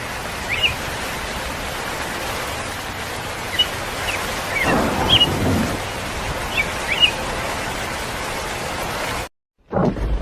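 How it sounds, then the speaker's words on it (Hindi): Heavy, steady rain pours down in a jungle, a dense continuous hiss with faint bird chirps scattered through it and a brief swell of louder downpour midway; the sound cuts out abruptly near the end, then resumes. "बारिश बहुत तेज़ है"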